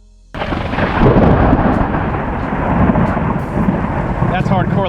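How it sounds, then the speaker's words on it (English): Loud, rolling thunder breaks in after a brief quiet start and rumbles continuously over heavy rain during a hard rainstorm, with a few fainter cracks near the end. "that's hardcore lightning"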